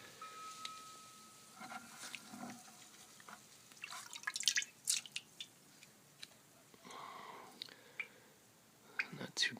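Cast iron piece lifted out of a vinegar bath, with scattered quiet drips and splashes plus wet handling sounds at close range under soft speech.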